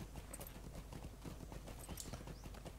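Horse hooves clip-clop in a steady, quick rhythm of faint, close thuds in the Lord of the Rings Online game, over a constant hissing background.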